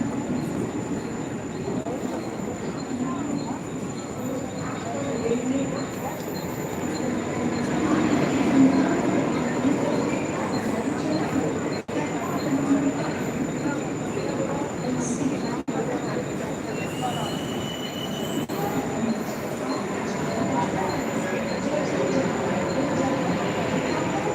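A Mumbai AC local train rumbles steadily throughout, with wheel and carriage noise swelling in the middle and a few brief squeals and clicks, while voices murmur in the background.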